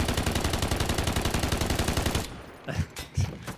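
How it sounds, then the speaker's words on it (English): In the Delta Force video game, a machine gun empties a magazine in a rapid, loud, evenly spaced burst of shots for about two seconds, then stops, followed by a few scattered distant booms and impacts. "I'll just wait for that mag to be dumped before I start talking."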